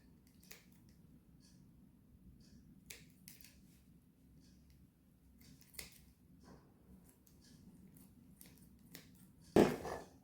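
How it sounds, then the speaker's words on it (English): Scissors snipping fresh rosemary for a chestnut nut roast, a series of faint sparse close clicks spread out at irregular intervals, ending in a louder rustle. "Snip that down."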